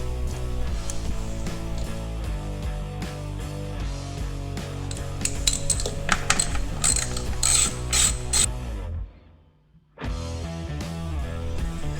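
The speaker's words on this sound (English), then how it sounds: "Once everything is lined up, then we can go ahead and install our bolts." Ratchet wrench tightening the air filter bolts on an Indian Thunderstroke motorcycle: rapid, steady clicking bursts close to the microphone, continuing for about nine seconds, a brief pause, then more clicking resumes.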